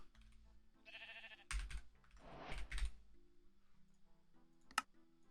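A sheep in a modded crafting video game bleats once, brief and faint, among soft repeated keyboard typing and clicks.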